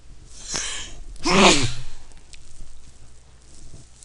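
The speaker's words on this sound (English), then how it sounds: "Uh-oh, I feel another sneeze." A single loud sneeze with a sharp breathy burst, preceded by a brief inhale, then quiet breathing.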